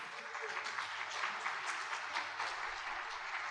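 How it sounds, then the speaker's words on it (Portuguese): A church congregation applauds during a sermon, a broad continuous wash of clapping from a large room at steady volume, with some voices underneath. "Você quer aplaudir Cristo agora ou depois?"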